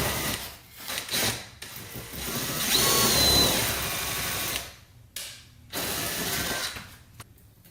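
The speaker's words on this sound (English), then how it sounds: "I'm about to use the step drill." A step drill bores through a front lip on a BMW M3/M4 CS, with whirring, grinding runs broken by short pauses and stops, fairly quiet and close.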